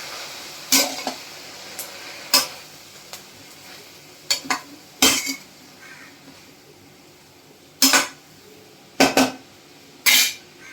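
A cowpea leaf vegetable dish is stirred in a pan, with sharp metallic scrapes and clanks of the spoon coming in irregular bursts over a faint background sizzle, close and without talk.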